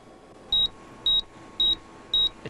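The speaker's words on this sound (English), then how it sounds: "my terminal beeped for the 100th time" A computer terminal gives four identical short electronic beeps, evenly spaced about half a second apart, clear and close over a faint hum in a quiet room.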